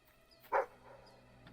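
A single short dog bark from the video game Fable III, quiet and somewhat distant over a faint low background hum.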